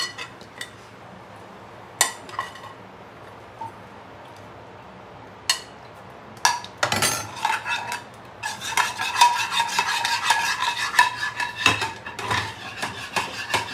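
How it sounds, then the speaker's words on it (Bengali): Milk is swished around a metal pot to rinse out clinging residue, with scattered clinks and scrapes at first and then a busy run of stirring and scraping against the pot. "যেটুকু লেগে থাকলো আমি এই দুধ দিয়ে এটা ধুয়ে দিলাম"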